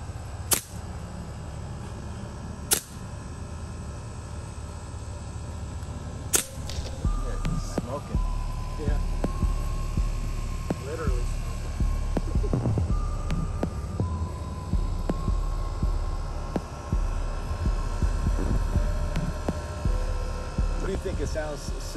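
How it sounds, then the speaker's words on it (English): Edgun Leshiy 2 air rifle shots: a few sharp, isolated cracks of muzzle blast and mechanical action spaced seconds apart, over a steady low hum with people talking quietly. "distinguish between the muzzle blast and the mechanical noise of this gun"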